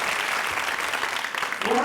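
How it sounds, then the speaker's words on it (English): An audience at a school district state-of-the-schools event claps in sustained, dense applause throughout, moderately loud and even. "Let's give them a big round of applause"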